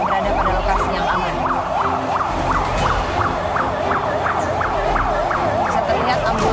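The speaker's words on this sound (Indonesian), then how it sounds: "Bisa terlihat ambulans sudah membawa pergi korban-korban dan melarikannya ke rumah sakit terdekat" An ambulance siren carries victims away from a terror attack scene, its fast rising-and-falling wail repeating steadily and loudly over traffic rumble, with a voice talking faintly underneath.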